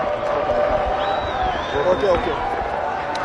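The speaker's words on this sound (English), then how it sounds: "Fantastic crowd in here in Queen's Sports Club." Cricket crowd at Queen's Sports Club during a Pakistan versus Zimbabwe match, a steady broad roar of cheering and scattered clapping that holds throughout, with a whistle-like tone rising briefly in the middle.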